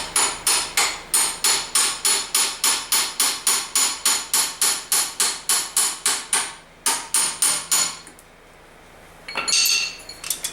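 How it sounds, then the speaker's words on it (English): Rapid, evenly spaced metallic hammer blows on a rod against the boss of a Briggs go-kart engine ring out, about three per second, then slow to a few last strikes before a brief scraping clatter. "just a piece of rod and a hammer, and you hammer right on this boss here"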